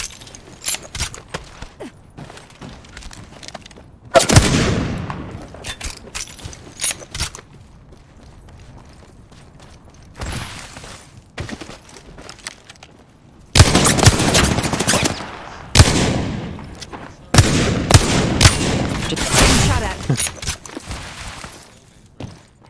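Apex Legends gunfight with bursts of rapid automatic gunfire, loud and close, broken by quieter stretches of scattered single shots and clatter.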